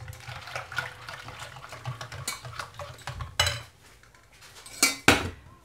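Hot milk with vanilla being whisked quickly in a bowl for crème brûlée, giving steady metallic scraping and clinking of utensil against the bowl, with a few louder knocks near the end and no talking.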